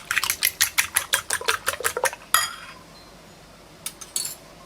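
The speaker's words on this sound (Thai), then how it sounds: "ตีไข่ให้เข้ากันนะคะ" A utensil beats eggs in a bowl, giving about a dozen quick, close, evenly spaced clinks in a steady rhythm, then one sharper knock, a pause, and two faint taps.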